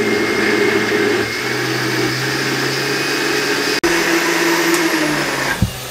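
A home juicer machine grinds peaches for juice, giving a loud, continuous motor whir that holds steady, cuts out for an instant and ends with a small clunk.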